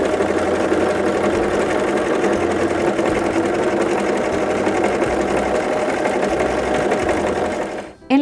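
A Brother CV3550 coverstitch machine sews stretch fabric in one continuous, loud, fast mechanical whirr lasting several seconds, then stops abruptly with a short clunk at the end.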